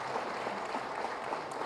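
Brief, steady audience applause at the ISBACON 2024 conference in Hyderabad, a dense wash of clapping without any clear voices.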